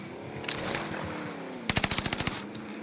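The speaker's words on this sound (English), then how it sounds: "shots in front of me at the big hangar" Automatic gunfire from an Owen submachine gun in the video game Call of Duty Warzone near a big hangar, a rapid burst of about ten sharp shots following a softer stretch of game noise.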